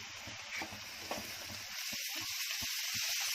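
Masala roasting in a pan for a green chilli sabzi gives a faint, steady sizzle, with soft spoon scrapes and taps early on. The frying continues alone toward the end.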